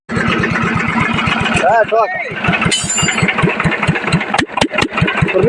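A tractor engine with loose firing catches and runs with a rapid, even diesel chug close by. A voice briefly talks over it partway through.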